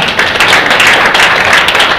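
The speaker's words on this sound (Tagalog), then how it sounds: "Palakpak ka, palakpak." An audience at a Royale Business Presentation bursts into loud, dense applause, a steady wash of many hands clapping close by for the whole stretch, with no talk over it.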